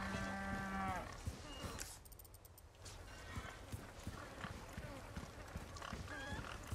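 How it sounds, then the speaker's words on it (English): A pig grunting and snorting in a Resident Evil game, heard amid busy game sound with cattle-like lows and scattered hits, loud and continuous throughout with a brief quieter gap midway. "Come on, move, pig."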